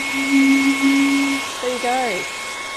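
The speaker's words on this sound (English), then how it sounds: "as I put the hairdryer over the lid, it's creating a musical note" A hair dryer blows steadily over the lid of a maple syrup bottle, making it sing a sustained musical note that holds for about a second before fading into the dryer's broad rush; a voice speaks briefly near the end.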